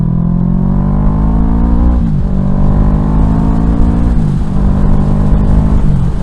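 A car engine accelerating hard through the gears, loud and close, with rising revs cut by shifts; a van screaming up behind on a road.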